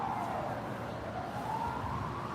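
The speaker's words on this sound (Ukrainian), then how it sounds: "Сьогодні багато швидких їздять." An ambulance siren wails through Central Park in Kharkiv, a slow rising and falling tone heard at a distance under steady traffic rumble.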